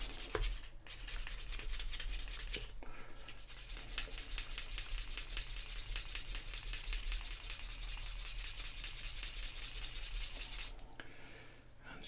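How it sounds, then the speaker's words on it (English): A leather edge is burnished by hand, giving a continuous, close, dry rubbing hiss with fast strokes. It pauses briefly twice near the start and fades out near the end. "You see the friction that's caused by the burnishing process helps to get those fibres to lie nice and flat."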